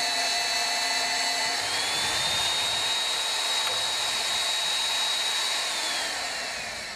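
A Hougen magnetic base drill cuts a hole in metal, its motor whining steadily with a high tone that rises as the cutter bites and falls away near the end, loud and close with no talk.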